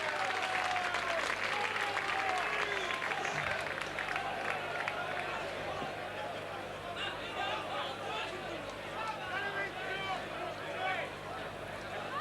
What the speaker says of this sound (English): Leeds getting a round of applause as they walk back from this large following here today